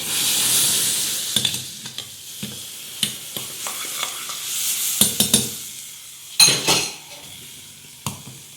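Garlic sizzles in hot oil as the tasha topping for molokhia, heard as a steady frying hiss with a spoon repeatedly scraping and clinking against the pan, and no talking.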